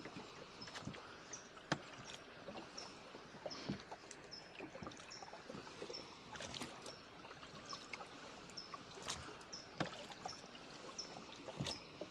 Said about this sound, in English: Sounds like it's a pretty good sized stream, or it's got a lot of rocks it's coming over.